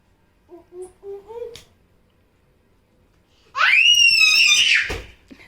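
A child screams loudly and at length, a high, wavering shriek lasting over a second, after a few short babbling vocal sounds earlier and a quiet gap.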